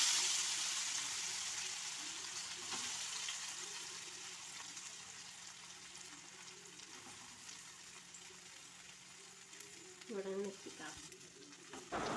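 Masala-coated potatoes frying in hot oil with mustard seeds, a soft steady sizzle with occasional stirring scrapes near the end, fairly quiet and close.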